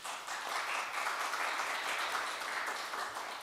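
A morning news conference audience claps steadily at a moderate distance, a dense even wash of many hands that carries for several seconds before easing off slightly.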